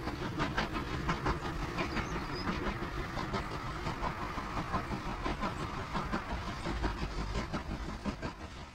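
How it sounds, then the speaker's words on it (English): A Class 28 steam locomotive vents steam and pulls away toward a rail yard, giving a steady run of rhythmic chuffs and clanks that stays fairly loud and close for the whole stretch. "the disgruntled Class 28 left off steam and pulled away towards Knapford Yards."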